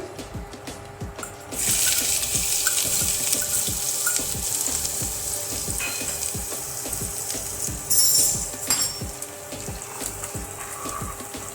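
Asafoetida, garlic and ginger fry in hot oil for masala aloo matar, starting with a soft sizzle that swells into a loud, steady close crackle with flickers of splattering and a few light clinks, with no talk.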